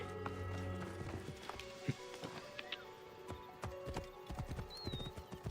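Rhythmic hoofbeats of a galloping horse in Assassin's Creed: Origins clatter steadily alongside a whinny and a busy background of game effects.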